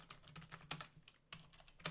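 Rapid keystrokes on a computer keyboard come in short uneven bursts with brief pauses, close up and crisp over a low steady hum, with no voices.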